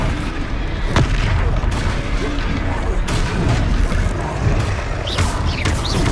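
Confringo fire spells blast in Hogwarts Legacy combat, a string of loud booming impacts at irregular intervals over continuous battle noise, with character voices shouting between hits.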